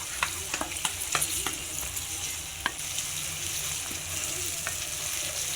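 Ginger garlic paste is stirred into fried onions in a pan, giving a steady sizzle with scattered sharp scrapes and taps of the spoon, loudest near the start.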